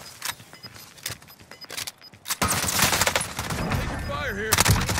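Gunfire in the video game Modern Warfare: sparse shots at first, then from midway a dense, loud burst of rapid gunfire with other game effects layered over it.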